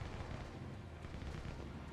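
Incoming artillery fire in the Systemic War strategy game: a dense, continuous low rumble of distant shelling and blasts, steady and loud throughout, with no voices.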